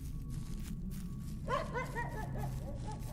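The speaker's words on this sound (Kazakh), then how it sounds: "Ит үріп атыр." A dog barks in the horror video game Silent Breath, a quick string of several yelping barks over a low, steady background rumble.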